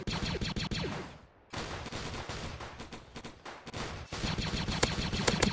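Rapid bursts of alien rifle fire from the Roblox Zombie Attack video game, dense and loud, with short pauses between volleys of repeated shots.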